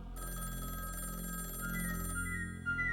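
An unanswered telephone rings on and on, a continuous, fairly close trilling bell that fills the moment with no voices over it.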